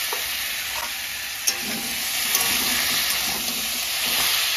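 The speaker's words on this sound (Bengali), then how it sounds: "একসঙ্গেই বটবটিটা আর বাঁধাকপিটা ভেজে নেবো এর মধ্যেই।" Flat beans and cabbage fry together in a pan with salt and turmeric, making a continuous close sizzle broken by the clatter of stirring, with a sharp knock near the start.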